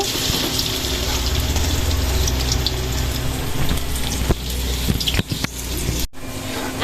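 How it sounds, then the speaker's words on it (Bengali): Onions frying in hot oil in a big kadai, giving a steady, loud, rain-like sizzle that runs throughout with a few brief pops, and no voices. "এখন আমি একটা বড় কড়াইয়ে তেল নিচ্ছি আর তেলের মধ্যে এখন পেঁয়াজ দিয়ে দিব"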